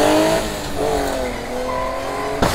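A life-size remote-controlled car accelerates hard, its engine note climbing and shifting in steady harmonic sweeps for a couple of seconds, loud and close, with a sharp clatter at the very end.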